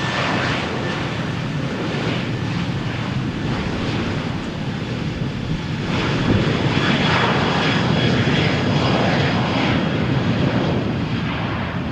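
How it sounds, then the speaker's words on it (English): An Air Europe jet takes off from Runway 13 at Malaga Airport on a stormy morning, its engines a loud, continuous roar that swells slightly partway through, with wind rushing underneath. "Air Europe flight is clear for takeoff"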